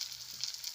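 Chopped tomatoes and slit green chilies sizzle softly and steadily in hot oil with browned onions, a faint, even crackle with no talk.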